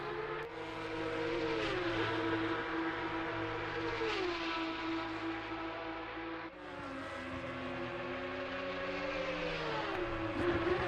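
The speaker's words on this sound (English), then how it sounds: "this camera positioning for the best sound from these Porsche Cup cars" High-pitched Porsche Cup race car engines in a sim racing game at Bathurst shriek continuously, pitch sweeping up and down through gear changes, with a brief dip midway before revving back up.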